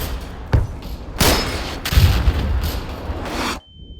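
Grenades explode in a Roblox World War I shooter, a series of several sharp booming blasts spaced irregularly across the span, close and loud, each followed by a rumbling tail before the battle noise cuts out abruptly near the end.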